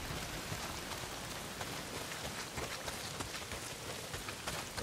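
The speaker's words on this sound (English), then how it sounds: "Well, not if it's pissing down rain." Heavy rain pours down in the video game Days Gone, a steady, dense hiss of downpour that stays constant throughout without letting up.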